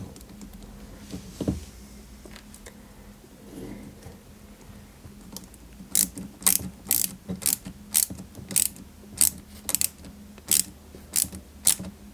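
A small screw is driven into a 1/8 scale Citroën 2CV AZLP model kit part, heard as a quiet, evenly spaced series of sharp ratcheting clicks from a close-by screwdriver following some soft handling noises.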